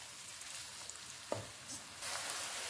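Onions, chopped tomato and pepper fry in hot oil with a faint, steady sizzle and a few soft stirring clicks.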